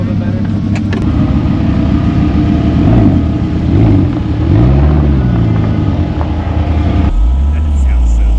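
Upgraded Volvo engine running loud and close during off-road testing, a steady rumble with several revs swelling and falling, then dropping to a lower idle near the end; voices talk over it.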